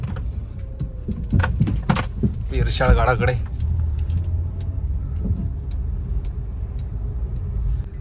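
Keys jingle in a few quick bursts as a car pulls away on a drive toward Irshalgad near Karjat, with a steady low engine and road rumble underneath and someone speaking briefly.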